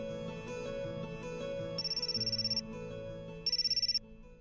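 A mobile phone ringtone plays a melodic tune, then two bursts of rapid high trilling chimes ring out, clear and alone over a quiet room.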